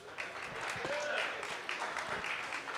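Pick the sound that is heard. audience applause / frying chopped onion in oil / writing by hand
audience applause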